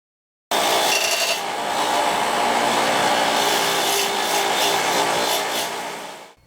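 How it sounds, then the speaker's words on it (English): A brass wire wheel spins against carbon-coated valves from a 2006 R53 Mini Cooper S cylinder head, making a loud, steady, close whirring scour that runs unbroken for about six seconds and then winds down. "I can hit it with a brass wire wheel without worrying about damaging it."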